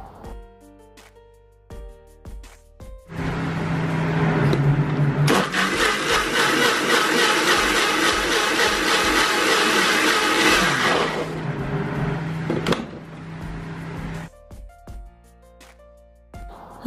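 Kitchen blender grinding strawberries for a smoothie, starting with a loud sustained whirring roar that runs steadily for several seconds, then winds down, with quieter handling noises before and after.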